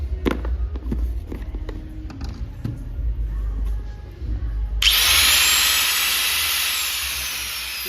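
A Hyundai HD-165 4-inch angle grinder starts with a few clicks and handling knocks, then spins up into a loud, steady high-pitched whine that gradually settles, close by with no speech.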